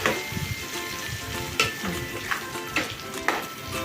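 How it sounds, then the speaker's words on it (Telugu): Crab frying with ground masala in a pan sizzles steadily and fairly quietly, with a few sharp scraping stirs cutting through at intervals; no voices. "మసాలాతో పాటు ఆ వెంటకాయలను కూడా ఫ్రై చేసేస్తుంది."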